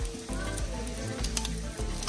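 Quesahuevos, eggs with cheese, sizzling and browning in a pan, a steady close crackle with occasional scraping and stirring noises.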